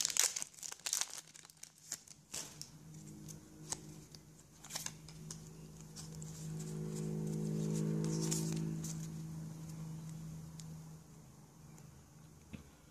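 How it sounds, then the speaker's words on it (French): Pokémon booster packs being opened from blister packaging, close crinkling and crackling plastic with sharp tearing snaps and rustles in irregular bursts, a faint low hum underneath and no talking. "je vais ouvrir les deux Pokémon boosters sous blister en premier"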